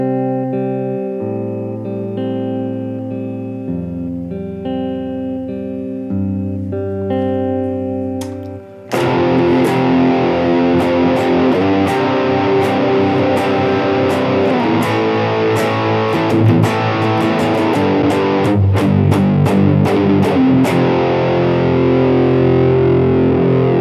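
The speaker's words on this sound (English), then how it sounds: "these transitions between clean and distortion need to be super tight" Band song played on electric guitar, clean arpeggiated chords for several seconds before snapping hard into a thick Boss DS-1 distortion tone with drums and full band, loud and continuous.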